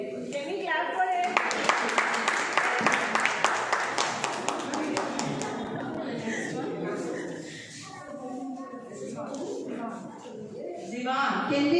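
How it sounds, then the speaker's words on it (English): Parents in the audience at a school seminar clap together in a quick, even rhythm for several seconds, with talk and children's voices continuing under and after the clapping. "Can we clap for it?"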